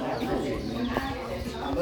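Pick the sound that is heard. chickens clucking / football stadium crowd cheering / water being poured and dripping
chickens clucking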